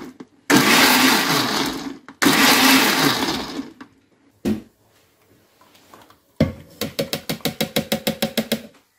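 Blender whirring through pomegranate seeds for juice in loud sustained bursts, a short stop, then a run of rapid rhythmic pulses as it is switched on and off.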